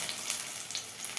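Food frying in oil, the second side cooking until red and crisp, gives a steady, even crackling sizzle with soft bursts throughout, close and alone with no talk.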